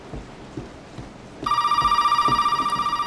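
A telephone rings in the Resident Evil 7 video game. After a short stretch of quiet ambience with soft footsteps, a loud, steady, pulsing electronic ring starts and continues to the end.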